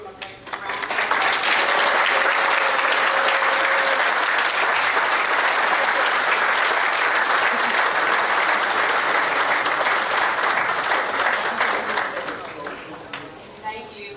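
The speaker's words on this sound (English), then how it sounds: "let's give them a big round of applause" A banquet audience at a high school football club event breaks into sustained, loud applause that holds steady for over ten seconds before tapering off, with a brief voice heard at the start.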